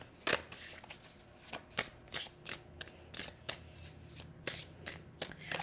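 Cards shuffled by hand during a tarot-style card reading, a series of sharp riffling bursts close to the microphone, repeating at irregular intervals with quiet gaps between them.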